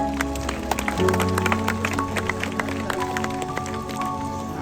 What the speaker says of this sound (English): Why don't we give them a big round of applause for all their very hard work out here